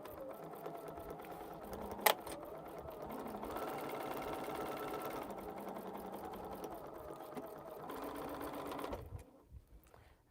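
A sewing machine runs steadily while stitching a quilt, a continuous fast mechanical whir with one sharp click early on, stopping near the end.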